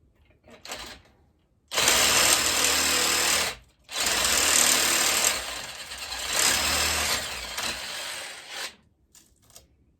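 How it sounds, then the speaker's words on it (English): A jigsaw cuts through wood in two loud, close bursts of rapid rattling buzz, with brief gaps between passes and quiet at the start and end. "The nice thing about a jigsaw is it's got a lot of safety in place."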